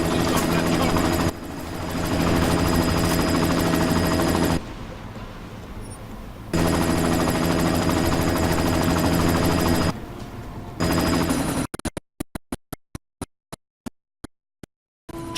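A helicopter in Deus Ex: Mankind Divided thunders loudly and close with a steady rotor roar that cuts out twice, then gives way to a string of sharp, spaced gunshots.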